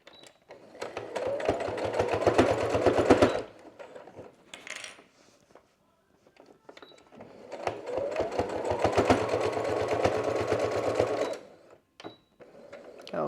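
Sewing machine stitching a seam forward and backward, running in two long bursts of rapid mechanical needle clatter separated by a short pause with light handling noise.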